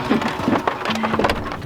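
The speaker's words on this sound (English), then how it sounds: "It's hail." Hail pelting down on and around an RV, a dense irregular patter of hard ice hits with a few sharper knocks, fairly close and steady throughout, with faint talk in the background.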